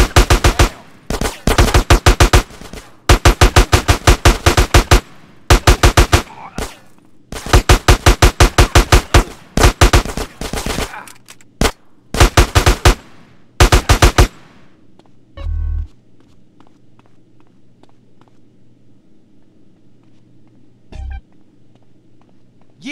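Automatic gunfire in GTA San Andreas during a heist mission, loud close bursts of rapid shots in several separate volleys, followed by quieter ambience with a couple of dull thumps.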